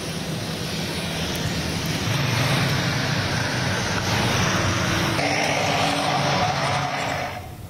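Engines of a C-130J Super Hercules military transport aircraft of the Indonesian Air Force roar as a broad, continuous rush, loud and steady for several seconds before easing slightly at the end, with no voices.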